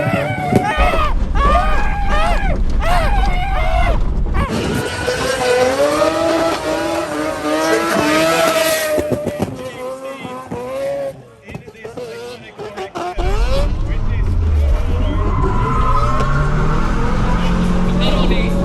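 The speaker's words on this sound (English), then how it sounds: "you just saw the best driver in the world driving one of the craziest cars in the world" A race car is driven hard at a motorsport show, its engine revving loud and close in repeated bursts, dropping away briefly, then returning under the talk of people nearby.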